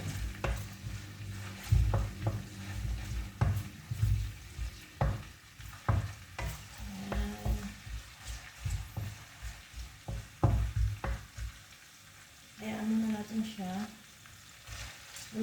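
Ginger fries and is stirred in a hot pan, with a steady sizzle broken by repeated scraping stirs and utensil knocks, close and fairly loud throughout.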